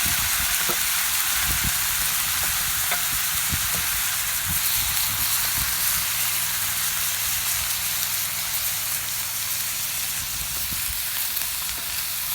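Three pounds of canned tuna browning in a hot pan for a lower-carb tuna casserole, giving a loud, continuous hiss of sizzling with a few faint stirring knocks underneath.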